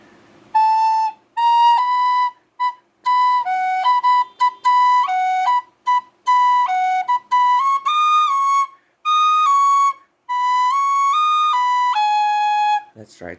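A tin whistle in E plays the melody of the worship song Way Maker, clear bright sustained notes in phrased bursts with short pauses between, close and loud, played alone.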